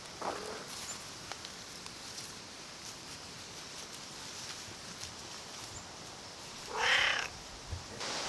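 A domestic cat purrs softly and steadily outdoors in a vegetable garden, with a brief meow-like burst near the end over faint background noise.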